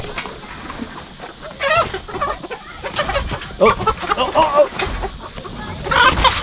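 Chickens cluck and squawk in scattered bursts around a farm pen during a chase, close and busy, while a person briefly exclaims over the flapping and scuffling.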